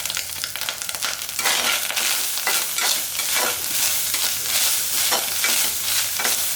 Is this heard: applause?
no